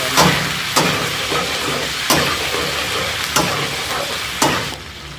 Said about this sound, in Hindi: चिकन को अच्छी तरह से मिक्स कर लेना है